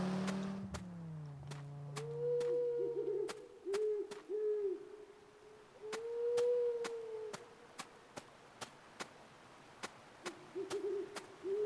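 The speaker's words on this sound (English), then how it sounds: "You can hear the owls." Owls hoot repeatedly in a Deadly Premonition 2 game scene, a series of soft mid-pitched calls spaced a few seconds apart against quiet night ambience, with faint passing car engine sounds early on and light clicks throughout.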